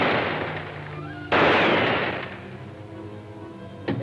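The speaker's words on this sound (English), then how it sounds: "You fired 3 shots at Blenker and 2 at me." A single loud, sharp pistol shot bursts out at close range, its echo decaying slowly, followed by a second short crack near the end amid a busy old film soundtrack with a faint musical drone.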